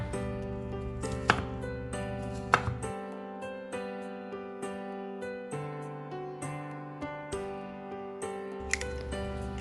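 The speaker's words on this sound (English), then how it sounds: "Chop mushrooms." A knife chops frozen organic mushrooms on a board in soft, evenly spaced taps, faint beneath a loud melodic music track.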